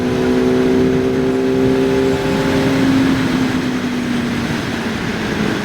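QJ Motor SRK 421 RR four-cylinder motorcycle engine revving high, a loud continuous howl with steady tones that hold and slowly shift in pitch, close and alone for several seconds.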